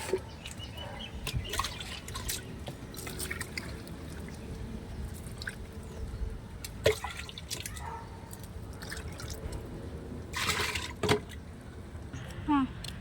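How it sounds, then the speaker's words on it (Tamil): Water poured over freshly planted garden soil, trickling and dripping softly in an outdoor garden during planting work, steady and faint with a few brief louder splashes. "சரியாக இருக்குது இதுலையும் தண்ணி ஊற்றிக்குவோம்"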